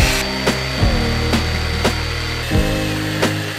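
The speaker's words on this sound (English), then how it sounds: "And now I need to drill a hole in here so that I can clamp it to the track." A drill with a 3.5 mm bit boring a hole into aluminum for a DIY electric skateboard part, heard up close as a loud grinding whine broken by several sharp catches and restarts across a few seconds.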